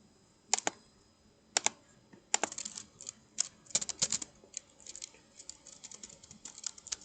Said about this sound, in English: I'm going to type in git clone